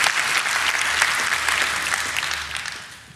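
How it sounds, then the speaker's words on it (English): A church congregation claps after a worship set on a Sunday morning, a dense, steady round of applause from many hands that stays full and close before fading slightly at the end. "You can clap."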